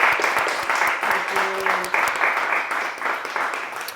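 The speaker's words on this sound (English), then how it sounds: "I would like to thank everyone to give Lynn a round of applause and appreciation for sharing" A live studio audience applauds, a dense sustained clapping that rises and then slowly thins, with a faint voice briefly underneath.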